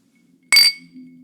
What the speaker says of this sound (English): I like the sound of the ice.